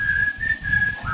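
A person whistles a short, steady high note, clear and close, with a faint low rumble underneath.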